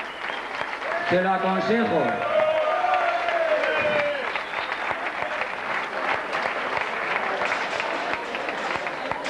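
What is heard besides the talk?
audience applauding race finishers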